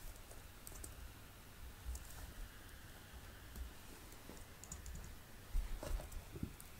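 Typing on a computer keyboard during software development, a quiet, steady patter of soft key clicks over a faint hum, with a few slightly louder taps near the end.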